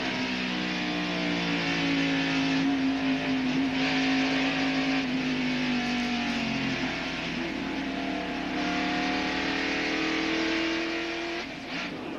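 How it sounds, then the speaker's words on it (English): A NASCAR Winston Cup stock car engine at the 1991 Miller Genuine Draft 500, heard from an in-car camera: a loud, steady, sustained roar with shifting pitch as the engine revs, alone without talk. "Great video from Dale Jarrett's in-car camera"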